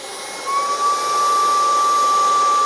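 A Dreame H14 Pro wet-dry vacuum spins its roller at high speed during self-cleaning, a loud steady whine with a rising high tone that settles into a continuous drone.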